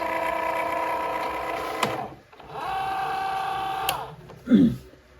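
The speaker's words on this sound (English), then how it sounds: "now the Cricut machine is just making sure that everything is aligned" A Cricut cutting machine whirs steadily with a loaded mat, holding a sustained motor tone for about two seconds, pausing briefly, then running again, with a short soft thump near the end.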